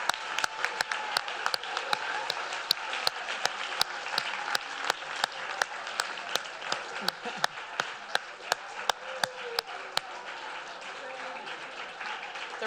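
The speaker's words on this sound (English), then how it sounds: "Let's give a big round of applause to all of these amazing students" An audience at the 2019 UCI MHCID capstone presentations applauds students: sustained, moderately loud clapping with sharp individual claps popping through, and voices murmuring underneath throughout.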